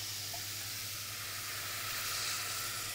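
Poultry broth hits a hot pan of vegetables with a steady, close sizzle and hiss that holds evenly throughout, with no talking over it.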